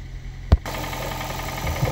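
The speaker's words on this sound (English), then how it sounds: "As you can see, the engine is running smooth, no rattling noise or whatsoever." Toyota Prius 1.5 hybrid engine from 2009, repaired after a misfire, idling smoothly with a steady low hum and a sharp knock-like click near the start.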